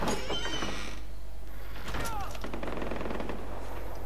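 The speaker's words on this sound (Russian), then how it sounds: "По кому они стреляют, подонки?" Gunfire in the Far Cry 4 video game, a burst of shots with clattering noise at the start and scattered bangs after, mixed with game sounds and a horse-like whinny in a busy, continuous soundscape.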